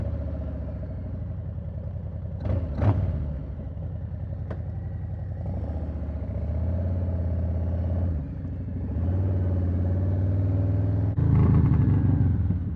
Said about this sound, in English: Man, this bike sounds amazing.